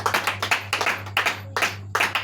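A church congregation claps together for the Lord in a steady, rhythmic beat, loud and close, with dense overlapping hand claps and no voices.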